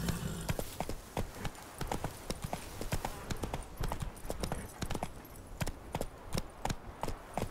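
Hooves of Geralt's horse Roach in The Witcher 3, a rapid, steady clip-clop of a galloping horse close by, continuous and loud over a low rumble, with no speech.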